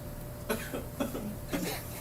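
Three short coughs in quick succession, fairly soft and close, with a faint steady hum behind them.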